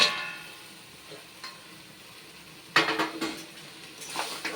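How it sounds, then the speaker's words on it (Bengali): Boiled mutton legs stirred into spice masala in a pan for a mutton trotters dish, with a low sizzle, a clattering spoon knock early and a burst of scraping and clinking near the end. "এবার সব দিয়ে মশলার সাথে খুব ভালো করে কষাবো"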